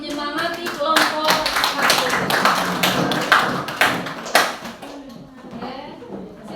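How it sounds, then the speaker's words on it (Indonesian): Applause for a student group in a classroom: a burst of many hands clapping, loud and close, with uneven rhythm and a few sharp claps standing out before it fades down, voices mingling in the background. "Beri tepuk tangan untuk menyemangati kelompok"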